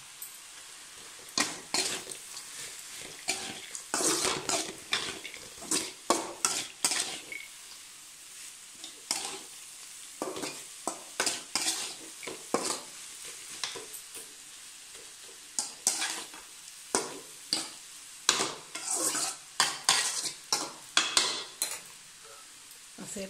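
Ingredients fry in a pan while a utensil stirs and scrapes against it, making repeated metallic clatters and knocks over a continuous sizzle.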